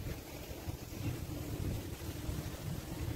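Steady wind gusting across the microphone at a seaside island park surrounded by sea, a continuous low rumbling buffet with a broad hiss, with no speech heard.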